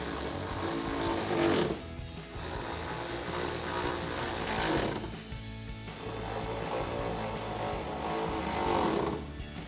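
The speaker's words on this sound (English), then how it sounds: "we can start to tighten down our screws around the fender arch" A power tool drives screws around the rear fender arch of a 2019-2023 RAM 1500 while a wheel well guard is fitted, giving loud whirring, ratcheting bursts with two short pauses between runs.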